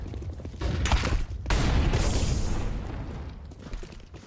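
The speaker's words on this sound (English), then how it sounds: "Let's throw the flashbang." A flashbang grenade detonating in the video game Counter-Strike 2: a sharp bang followed by a loud, sustained ringing hiss that slowly fades, close and alone.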